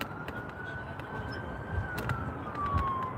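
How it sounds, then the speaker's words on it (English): A faint siren wails in the distance in California at sunset, a thin rising and falling tone over steady outdoor background noise. "you can hear sirens every once in a while"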